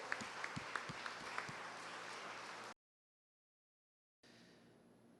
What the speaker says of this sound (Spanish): Dele más fuerte ese aplauso al Rey.